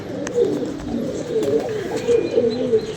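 Rain-soaked pigeons in bad weather coo in soft, repeated rolling calls, fairly close, over a low steady background.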